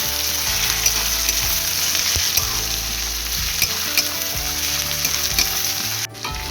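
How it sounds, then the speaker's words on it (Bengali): Ginger paste and chopped chili frying with garlic and onion in a pan while being stirred, a loud steady sizzle with repeated rhythmic scraping strokes of the spoon, close up, ending with a brief dip and no voices. "আমি এখানে দিয়ে দিয়েছি আদা বাটা আর লঙ্কা কুচি, দিয়ে আমি আবার ভালো করে নাড়িয়ে নেব"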